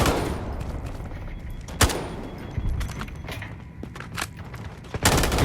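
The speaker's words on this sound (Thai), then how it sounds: "นี่ยิงหนักไปไม่เห็นนัดตัวนะยิงหนักยิงตายไป" Gunfire in the Delta Force Mobile shooter game: loud sharp shots and short bursts over a dense, noisy battle background, with a few heavy thumps standing out.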